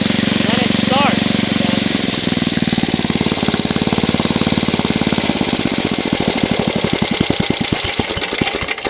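A troubled tractor engine that has just been started chugs close and loud, its steady knocking pulse growing slower and more distinct over time, with a brief voice near the start.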